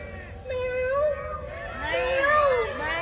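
A cat meows several times in drawn-out, wavering cries, fairly close, with a little background murmur.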